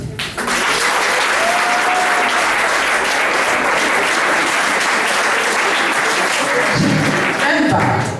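Wedding guests applaud together in a sustained, dense burst of clapping that swells quickly and holds steady at close range for several seconds before easing off at the end.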